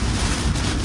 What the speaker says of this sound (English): Big westerlies here. That's RFD from this supercell.